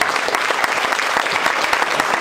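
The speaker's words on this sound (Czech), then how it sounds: "A nyní už tedy velikánský potlesk pro naši zpěvačku Pavla Zechová." Big, sustained applause for a jazz band's singer at a live show, dense steady clapping from a crowd with no pauses, loud and close throughout.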